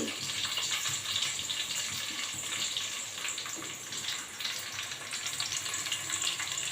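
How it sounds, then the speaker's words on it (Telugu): Onions frying in hot oil in a pan for a tamarind fish curry, giving a steady, dense sizzle and crackle that runs unbroken at fairly close range with no voices. "ఈ ఉల్లిగడ్డలు అనేవి బాగా దూరగా ఫ్రై కావాలన్నమాట"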